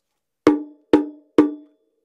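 A homemade hack bongo drum is struck three times in an even rhythm, giving short, dry, knocking hits that die away quickly in silence.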